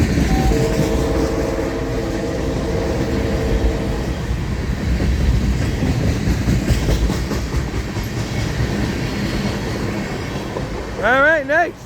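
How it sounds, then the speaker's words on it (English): An FEC Bayard local freight train rolls past, a steady loud rumble with clacking wheels, horn tones early on and a squealing wheel near the end, alongside talk. "This is the Bayard local coming back."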